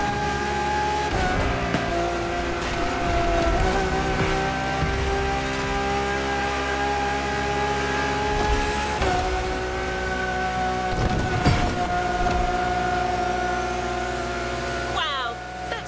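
Race car engine in The Crew Motorfest driving game, a steady loud drone with rising and falling revs throughout, mixed with a rumbling whoosh like rain or wind.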